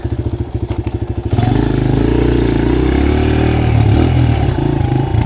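A Suzuki DRZ125 dirt bike engine idles close by with a pulsing thump, then revs up into a steady, loud mid-pitched drone that holds for several seconds with no one talking.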